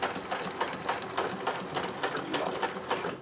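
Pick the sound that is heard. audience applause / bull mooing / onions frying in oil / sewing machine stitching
sewing machine stitching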